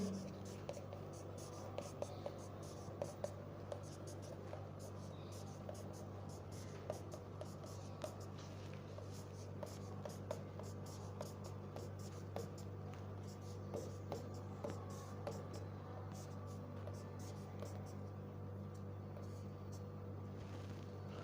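A pen writes out chemistry structures on paper or a board, a faint steady scratching with small taps over a constant low hum of room noise.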